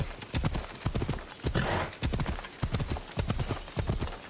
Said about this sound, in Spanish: Vale, vamos a dejar el caballito.